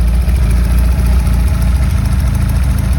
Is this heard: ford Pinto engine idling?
yes